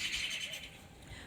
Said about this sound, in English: let me tell these birds to shut up